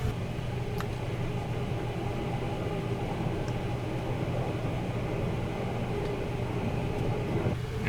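Interior rumble of the Sunrise Express sleeper train rolling through Fujisawa station, a steady broadband drone and low hum with faint clicks and no voices.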